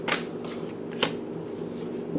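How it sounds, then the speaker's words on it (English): A deck of tarot cards is shuffled close by, with crisp riffling bursts at irregular intervals over a soft background hum and no talk. "When I was shuffling, the Temperance card fell out."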